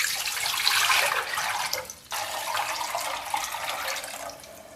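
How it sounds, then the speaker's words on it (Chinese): Clean water runs from a tap into a cooking pot, a close, steady hissing splash that briefly stops and then resumes. "起锅，放入清水，"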